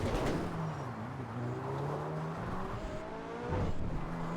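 A mid-engine, rear-wheel-drive Coquette D10 sports car in GTA Online drives with a steady engine drone that rises in pitch as it accelerates, then revs up again near the end.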